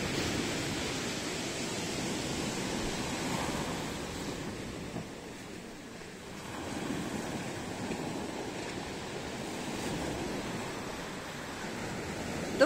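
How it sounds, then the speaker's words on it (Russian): Stormy Black Sea waves wash onto a city beach in Partenit, Crimea, in a steady roar, swelling and easing slightly, with wind around the microphone and no voices. "сниму вам видео, как у нас море штормит."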